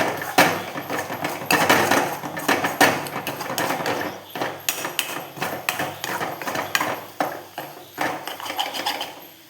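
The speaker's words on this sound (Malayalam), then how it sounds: "അടിക്ക് പിടിക്കാതെ നന്നായിട്ട് ഇളക്കി കൊടുക്കണേ" A utensil scrapes and clatters against a pan while an egg mixture is stirred over low flame, giving irregular close knocks and scrapes throughout.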